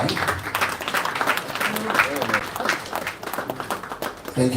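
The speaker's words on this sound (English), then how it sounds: "Can we please applaud him one more time?" Audience applause at a launch event for a report on elections and courts, a steady wash of clapping that holds for several seconds with voices and talk mixed in underneath.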